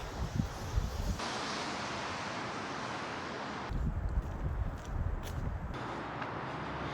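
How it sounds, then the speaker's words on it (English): Steady outdoor wind roars and buffets a microphone, a broad rushing noise with gusts that rise and fall, no voices. "It is pretty windy outside."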